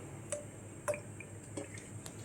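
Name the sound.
coconut oil being poured into a pan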